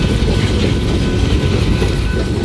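A CSX Wheeling & Lake Erie coal train led by three locomotives, including ES44AH and AC4400CW units, thunders past close by with a loud continuous roar and rhythmic clickety-clack of wheels over rail joints.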